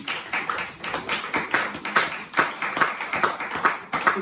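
A church congregation clapping in praise during a Sunday service, with sparse, fairly rhythmic claps from a small group in a roomy space, moderately loud and steady.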